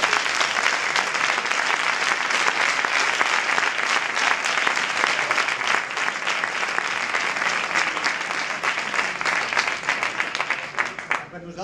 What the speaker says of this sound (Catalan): jo demano que se'ls faci un grandiós aplaudiment